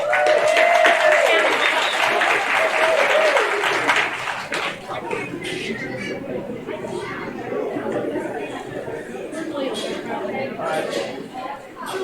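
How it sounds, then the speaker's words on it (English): A crowd claps for the kids at a 4-H beef show, strong at first then settling into scattered applause mixed with chatter, light laughter and a voice talking over it. "let's give these kids a big round of applause"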